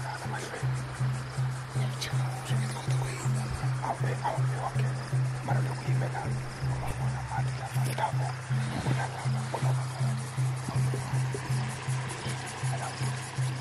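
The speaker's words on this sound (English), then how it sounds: "And the water is noisy, that's why he can't hear." River water rushes noisily through the Olifants area of Kruger National Park. A steady low motor hum runs beneath it throughout, and a faint murmur of voices is also present.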